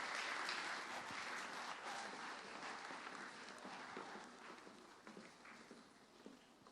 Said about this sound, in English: One last round of applause for our NMS valedictorians and salutatorians.